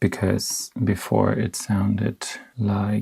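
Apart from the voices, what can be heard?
No everyday noises stand out.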